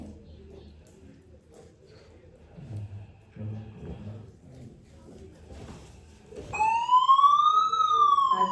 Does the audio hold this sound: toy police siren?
yes